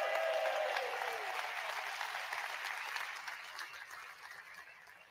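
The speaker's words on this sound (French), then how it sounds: "Je vous demande d'accueillir dans un tonnerre d'applaudissements le seul acteur que la terre entière nous envie, Tonton Posture!" A theatre audience applauds to welcome an actor on stage, a dense burst of clapping that starts loud and slowly thins out over several seconds.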